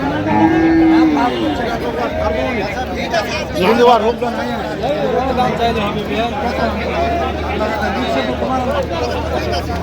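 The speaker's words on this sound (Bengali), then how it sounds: "দেখছিলাম গাভী বাছুর।" Cattle, a cow with her calf, low and moo nearby at a livestock market, mixed with a busy crowd of people chattering in the background.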